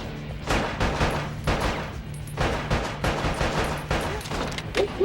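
Rapid bursts of gunfire fill the PS2 shooter Bad Boys Miami Takedown, loud repeated volleys with brief gaps, continuous over the whole stretch.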